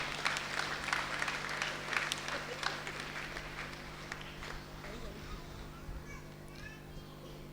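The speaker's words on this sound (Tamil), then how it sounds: "கொஞ்சம் சத்தமாக தான் கைத்தட்டுங்கள் எல்லாரும்." Audience clapping at a school prize ceremony honouring students in a rural aptitude exam, a fairly faint, scattered round of applause with children's chatter and movement in the hall, fading toward the end.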